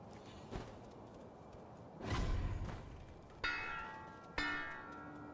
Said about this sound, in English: You need to stop ringing that bell.